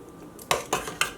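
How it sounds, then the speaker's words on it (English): Drained pasta for bolognese being tipped into a metal pot, giving three quick clanking knocks of utensil against pot, fairly close and loud. "what I do is I put my pasta into the pot"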